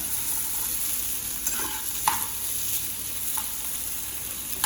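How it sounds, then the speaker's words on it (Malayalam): Chopped tomatoes sauté in a pan for a curd curry, giving a steady close sizzle with a few sharp spatula scrapes and clicks, no voices. "ഇനി ഇതിലോട്ട് അരിഞ്ഞു വെച്ച തക്കാളി ഇടാം. എന്നിട്ട് നന്നായി ഒന്ന് വഴറ്റുക."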